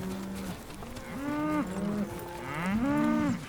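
Cattle on an Australian farm moo several times in quick succession, drawn-out bellowing calls that sound fairly close, with no talk over them.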